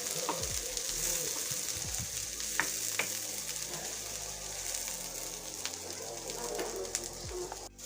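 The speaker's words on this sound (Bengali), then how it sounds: "এখানে পেঁয়াজ আর রসুনটা দিয়ে দিলাম।" Onion and garlic frying in a pan for a chicken kosha, a steady close sizzle with occasional stirring scrapes and small pops throughout.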